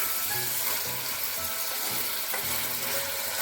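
Chicken pieces frying in oil in a wok for chicken chowmein, a dense continuous hiss and sizzle with faint low bubbling, steady and close throughout.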